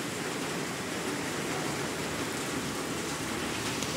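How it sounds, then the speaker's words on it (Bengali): Heavy rain pours down steadily in a flooded village area, a dense, even hiss of drops hitting surfaces that holds constant and fills the whole scene. "এত বৃষ্টি হয়েছে কেউ বাড়ি যেতে পারছে না।"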